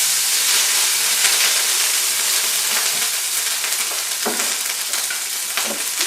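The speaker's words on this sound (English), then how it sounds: "Anyway, and it goes into the hot pan." Chicken fried rice sizzles and hisses steadily in a hot pan, a loud, close, continuous frying sound with occasional stirring scrapes and no talking.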